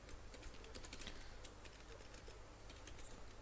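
Quick, light keystrokes on a computer keyboard patter steadily while writing HTML code, faint and close beneath a constant low hum.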